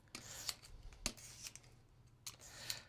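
Scissors snipping small paper scraps at a craft table, a few quiet, separate cuts with soft rustling and handling in between.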